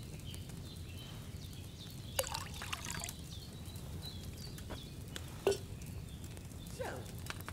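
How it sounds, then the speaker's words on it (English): Wine is poured from a pitcher into a cauldron during an alchemy scene in the video game Kingdom Come: Deliverance II. A quiet trickle and a couple of soft clinks sit over a low room hum. "you have to pour the right base into the cauldron"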